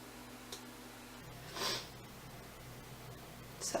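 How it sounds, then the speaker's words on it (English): A couple of short, faint nasal sniffs from a person with a cold doing their makeup, set against quiet room hiss. "Sorry for the sniffles, guys."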